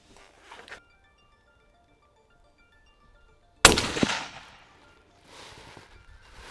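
A loud rifle gunshot fired outdoors over a radar chronograph during varminting load testing, one sharp blast with a rolling echo decaying over a second, faint tones and handling noises before and after.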